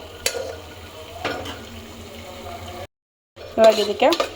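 Mint fries in a pan for ghee rice, a soft sizzle with a few stirring knocks, a brief silent gap, then louder sizzling and scraping at the end, with some voice mixed in.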